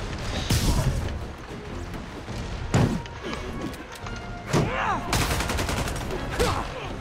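Gunfire from a Spider-Man video game, with several sharp bursts and thumps firing at irregular intervals over a busy, cluttered game soundscape, fairly loud and close.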